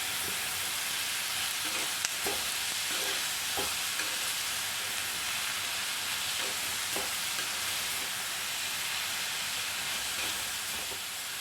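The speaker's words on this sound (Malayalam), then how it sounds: "ഒന്നും കൂടെ ഒന്ന് വഴറ്റിയെടുക്കാം" Bitter gourd sautéed with onion, coconut and curry leaves for pavakka theeyal sizzles in a constant, even hiss, with occasional light taps and scrapes of stirring, close and unbroken by speech.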